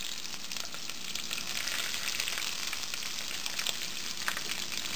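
Sliced onion and mace fry in a pan for chicken kofta curry, a dense, steady, crackling sizzle heard close and fairly loud throughout, with no talking.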